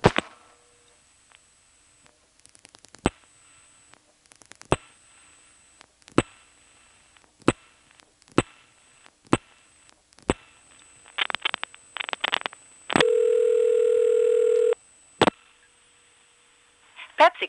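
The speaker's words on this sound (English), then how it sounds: "Now when we dial 8 Plus a working number in Greenville, we'll hear even more pulsing." Dial pulsing and ringing on a 1977 NX1 step-by-step telephone exchange in Farmville, North Carolina: sharp repeated clicks in bursts, then a long steady ring tone, followed by another click.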